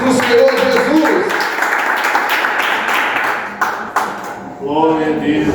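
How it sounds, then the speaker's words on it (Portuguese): A church congregation claps joyfully together in a dense, continuous wash of applause, with a voice speaking over the clapping at the start and again at the end. "Assentai-vos com palmas bem alegres para o Senhor Jesus"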